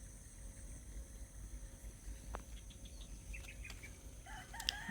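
Roosters and chickens in a rural Ubud, Bali setting, with a few short clucks and a faint crow toward the end over steady outdoor background noise; calls sound moderately distant.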